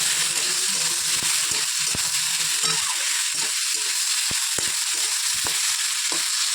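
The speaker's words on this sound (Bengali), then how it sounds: "এখন কড়াইটা গরম হয়ে গেছে অল্প করে তেল দিয়ে এই সয়াবিন আলুটা ভেজে নেবো" Soya chunks and potato frying in a little oil in a hot wok, a steady loud sizzle with repeated scraping knocks as they are stirred, close by and with no voices.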